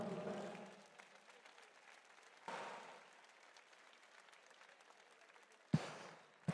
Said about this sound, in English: So please, everybody, a big round of applause for the Hyrox team.